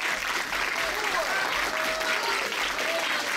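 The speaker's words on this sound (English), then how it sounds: "Crowd here in Southgate encouraging her" A crowd at a women's tag-team wrestling show in Southgate claps and cheers steadily, heard from a distance in a continuous wash of applause.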